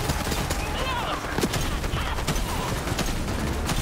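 Gunfire bursts in the Borderlands 3 video game, dense and busy with repeated sharp shots and a constant game mix underneath, people talking over the action.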